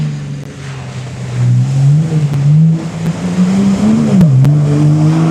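A turbocharged rally car engine at a stage rally hums loud and steady, pitch rising and falling as it revs and moves, with a few sharp clicks over the drone.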